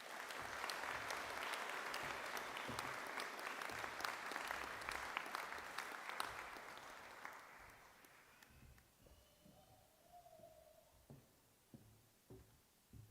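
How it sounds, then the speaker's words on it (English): A university graduation crowd for new Faculty of Health graduates gives fairly faint, sustained applause in a hall for about eight seconds, then thins to scattered individual claps that trail off. "Please, a big round of applause for our new graduates."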